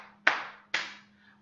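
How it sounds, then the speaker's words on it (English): Two sharp hand claps spaced about half a second apart, close and dry, each with a short decay, part of a pat-pat-clap rhythm beat kept by hand. "help me with the beat again. Pat, pat, clap."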